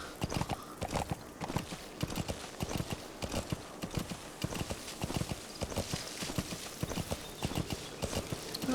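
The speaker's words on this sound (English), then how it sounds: "Crushed him beneath my horse's hooves here." Horse hooves clip-clop steadily in the video game Metal Gear Solid V, a quick, continuous rhythmic trotting over a busy, noisy outdoor game background, heard close with no talking.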